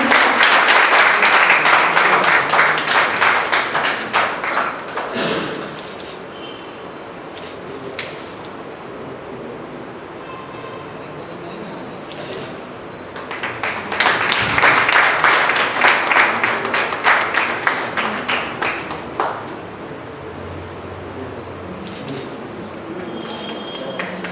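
An audience applauds at a Hindi book launch, two loud bursts of clapping separated by a quieter stretch of room noise, the second burst fading out.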